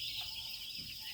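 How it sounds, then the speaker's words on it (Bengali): A batch of broiler chicks in a brooder peeps in a continuous high, dense chorus at an even, fairly soft level, with no voices. "অল্প কিছু ব্রয়লার মুরগির বাচ্চা উঠেছি"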